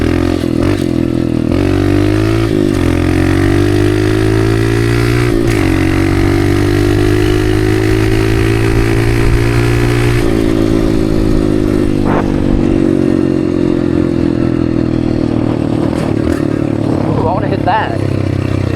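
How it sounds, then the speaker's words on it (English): Dirt bike ridden through open desert while practicing wheelies, the engine revving up and dropping back in repeated surges, loud and close, with clattering and rough wind noise. "I want to practice some wheelies."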